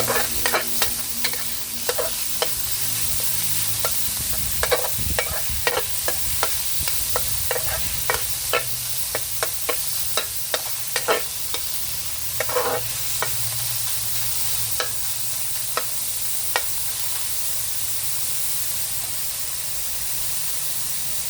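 Garlic stir-fried in a pan for glass noodles with chicken and cabbage, a steady sizzle broken by frequent sharp scrapes and clinks of a utensil against the pan, close and continuous with no talking.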